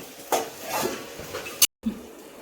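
A lid set onto a dosa pan during the cooking of a crispy jowar flour dosa: a few metallic clinks and scrapes, one sharp clank, a short silence, then a soft knock. The sounds are close and there is no talking.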